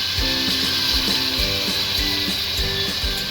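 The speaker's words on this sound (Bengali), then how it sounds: "এবার আমরা জল দিয়ে দিচ্ছি" Chicken curry sizzling loudly in a pan after water is poured in, a dense bubbling hiss with repeated soft knocks and bursts running steadily through, close by and without any voice.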